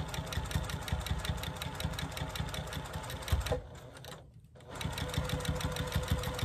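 A sewing machine stitches a minky baby blanket in rapid, even pulses, pausing briefly partway through before running again, close and moderately quiet, with no talking.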